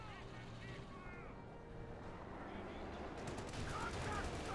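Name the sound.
Panzer IV tank attacking Cromwell in Company of Heroes 2 video game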